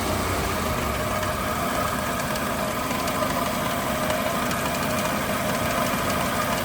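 A car engine idles with the air conditioning on while a faulty drive belt tensioner roller knocks, a steady close mechanical hum carrying a faint, regular rattling tick, no talking.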